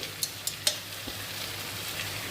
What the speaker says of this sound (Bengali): ক্যাপসিকাম দেওয়ার পর ঠিক একই রকমভাবে নাড়িয়ে নেওয়া হচ্ছে।